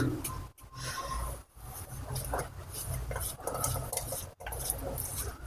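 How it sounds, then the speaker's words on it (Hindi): A knife finely chops watermelon for a summer sharbat, making close, repeated clicks and taps against a board with brief pauses and no voices. "एक तरबूज को आपने बिल्कुल बारीक बारीक काटना, जितना बारीक काटेंगे उतना ही फायदा है इसका होगा"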